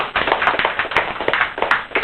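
A church congregation applauding steadily, a dense wash of many hands clapping at once, fairly loud and continuous with no voices on top.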